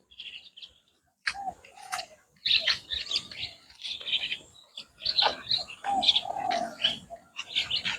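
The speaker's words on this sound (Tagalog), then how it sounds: "Ang daming birds." Many birds chirp and tweet in overlapping bursts, high and busy, with some lower calls mixed in and a faint voice now and then.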